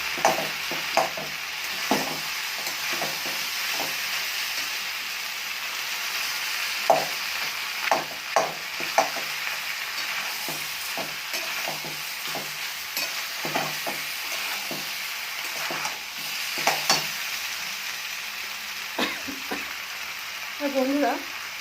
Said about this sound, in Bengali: আস্তে লতাগুলো ভেজে নিচ্ছি